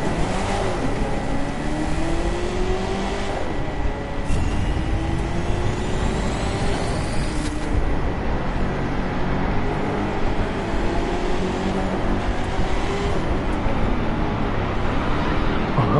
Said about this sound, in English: I can hear all the SUVs tight and screeching in the corner